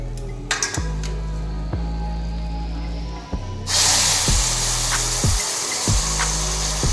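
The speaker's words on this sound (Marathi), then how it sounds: "मी आता ह्याच्यामध्ये गरम केलेलं दूध ओतत आहे।" Hot milk poured into roasted vermicelli in a pan for kheer sets off a sudden loud sizzling hiss partway through, while steady, evenly spaced metallic clinks of a spoon against the pan repeat throughout.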